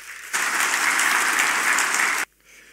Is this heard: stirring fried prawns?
no